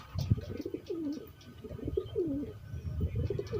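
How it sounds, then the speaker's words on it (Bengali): Wild wood pigeons cooing, a soft, repeated series of low, rolling coos close by in a quiet setting. "বন পায়রাদের।"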